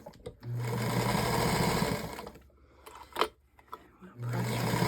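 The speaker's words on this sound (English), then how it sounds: "I'm gonna just top stitch it with the right edge of the presser foot" A sewing machine top stitches along the edge of a quilted fabric basket, running in two steady bursts with a brief pause between them, close and fairly loud.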